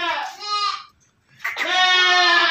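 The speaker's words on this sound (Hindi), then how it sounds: "आप लोगों के सामने भी बकरी है" A female bantam goat with a fine coat bleats loudly and close at a goat farm, two drawn-out wavering cries separated by a brief pause.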